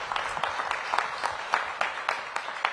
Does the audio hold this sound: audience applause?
yes